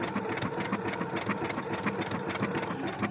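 A Brother sewing machine stitching an embroidered heart, its needle chattering in a rapid, even mechanical rhythm, close and steady for the whole stretch.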